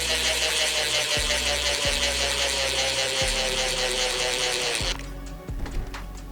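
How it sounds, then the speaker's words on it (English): A small electric screwdriver drives long screws into the axles and links of a 10.2 Raw Builder's Kit. Its motor whine runs steadily with a few short ratcheting clicks, then cuts off, leaving faint handling noises. "the electric screwdriver makes it so much easier"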